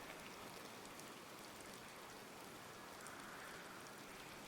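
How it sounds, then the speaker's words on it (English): Steady rain in the video game Disney Dreamlight Valley, a continuous soft hiss of falling drops with faint scattered patters, quiet and unchanging throughout. "It's still raining."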